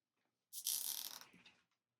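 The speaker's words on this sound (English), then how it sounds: "Now we're going to take our zip tie and tighten it over our greens" A plastic zip tie is cinched tight around a bundle of fresh Christmas greens, giving a single rapid ratcheting zip of about a second that fades out, close and fairly loud with no talk.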